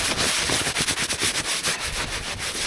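Fresh snow scrubbed by hand across a mildewed snowmobile seat, a steady close rasping rub in quick repeated strokes, with no voices.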